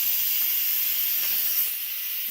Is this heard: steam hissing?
yes